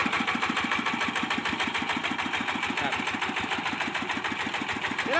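A modified farm tractor runs on its original engine, over 30 years old, in a steady, loud idle with rapid, even chugging pulses that continue throughout.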